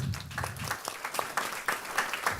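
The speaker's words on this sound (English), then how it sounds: "And an applause, please." A small business audience gives scattered applause after a speaker on the business climate, with distinct individual claps heard fairly faint and moderately spaced, not blending into a full roar.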